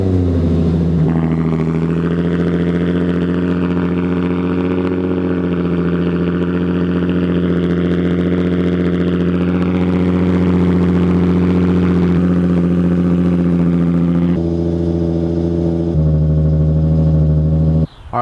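A Nissan 350Z engine cold-starts and settles into a steady, loud, close idle with a strong low hum that holds evenly, its pitch shifting slightly partway through, and no one speaks.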